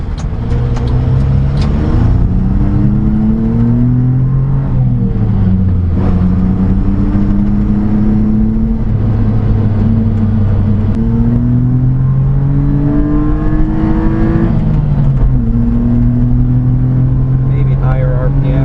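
A mini-truck engine with its exhaust cut off revs repeatedly, with loud, rough rises and falls in pitch over a constant idle drone, and a voice talking at times.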